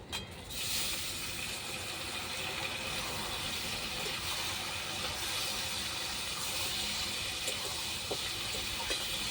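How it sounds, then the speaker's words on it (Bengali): Beef pieces frying in a pan with oil for a papaya and beef kosha, giving a steady broadband sizzle that runs close and even throughout with no voices. "মাংসটা এভাবে একটু ভাজা ভাজা করে নেবো।"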